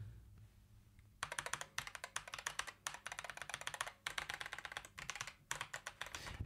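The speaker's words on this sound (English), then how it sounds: "it's a Corsair keyboard, like this gaming keyboard with some special mechanical key switches" Rapid clacky keystrokes on a Corsair mechanical gaming keyboard come in quick bursts with short pauses between, close and crisp after a brief quiet start.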